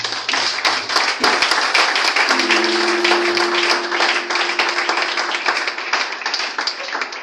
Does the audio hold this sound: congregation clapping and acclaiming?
yes